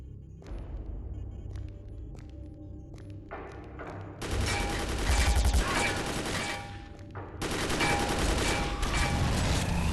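Rapid gunfire rattles through a Dead Effect 2 firefight, long loud bursts of automatic shots with booms and thuds, starting with scattered single shots and swelling into sustained heavy fusillades.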